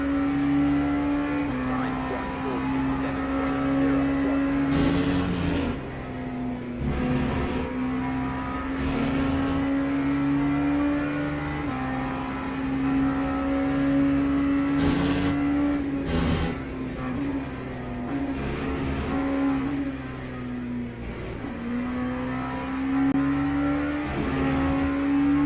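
An LMP2 prototype race car engine in the Le Mans Ultimate sim racing game holds a loud, steady high-pitched whine, dipping briefly around gear changes and climbing again across a long stretch of driving.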